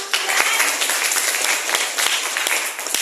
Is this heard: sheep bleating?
no